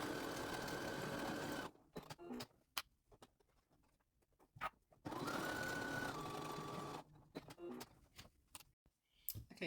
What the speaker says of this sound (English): next I'm going to just sew them both down the sides.